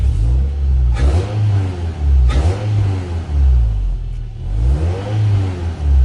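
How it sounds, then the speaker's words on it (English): A car engine revs repeatedly through a loud aftermarket exhaust after a transmission swap, deep rumbling bursts rising and falling about four times, close by, with no talking. "here is the exhaust again"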